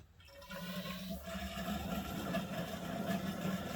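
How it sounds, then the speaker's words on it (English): Water rushes steadily through a basement pipe in a constant hollow flow that starts quickly and then holds at an even, moderate level with no voices over it. "And that is a lot of water running through there."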